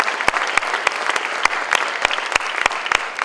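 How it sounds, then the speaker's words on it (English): Audience applause at a charity gala: a dense, steady wash of clapping from a large crowd in a hall, sustained and fairly loud throughout. "give yourselves a round of applause"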